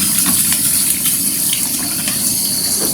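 Water runs and splashes steadily while rinsing a bathroom surface after black mould has been scrubbed off, a continuous close gushing sound with no talk.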